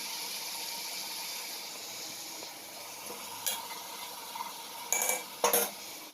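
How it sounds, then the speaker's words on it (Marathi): Water poured into mutton cooking in a pot, a steady hiss and sizzle running throughout with a few brief louder splashes and clinks of the pot toward the end, no talking. "इथे आता मटणामध्ये पाणी घालून घेते आहे मी"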